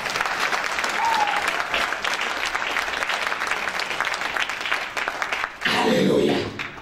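A church congregation breaks into a short, loud burst of clapping near the end, right after a stretch of preaching.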